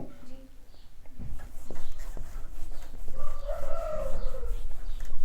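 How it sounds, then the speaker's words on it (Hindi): Neighbour's rooster crowing during the afternoon, a drawn-out crow rising under a person's ongoing talk in a room, with the bird at a moderate distance. "ये मुर्गा किसका जाग गया दोपहर में,"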